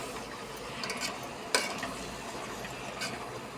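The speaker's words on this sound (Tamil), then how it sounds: "நல்லா கலந்து விட்டுக்கலாம்." Vegetables with soybeans and peas stirred in a cooking pan for vegetable biryani, a soft, steady scraping and rustling with a quiet sizzle and one sharp clink of the spoon partway through.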